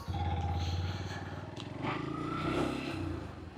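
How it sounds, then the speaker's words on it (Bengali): A Yamaha FZS V5 Hybrid motorcycle engine starts up and settles into a steady low idle, heard close and fairly loud without talk over it. "এরপর শুধু জাস্ট আপনি ক্লাচ ধরবেন, এই যে বাইক অন হয়ে গেছে।"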